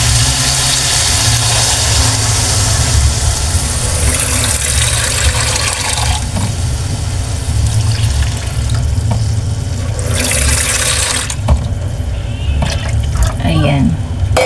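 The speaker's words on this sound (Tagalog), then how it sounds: "So lagyan na natin ng sabaw." Broth being poured into a cooking pot with carrots and other ingredients, a steady liquid splashing and gurgling against constant kitchen background noise, with a voice speaking over it.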